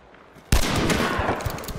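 A sudden loud burst of close gunfire erupts in Hunt: Showdown 1896 after a quiet moment, followed by a dense, echoing spray of repeated shots with ringing tails that continues without pause.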